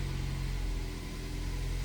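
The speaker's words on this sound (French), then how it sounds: "le moteur démarre" A Toyota hybrid car's engine, long unused and refitted with new spark plugs and fresh fuel, runs at a loud, steady idle with a low rhythmic thrum and no talking.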